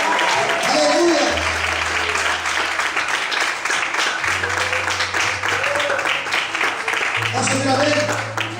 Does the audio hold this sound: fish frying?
no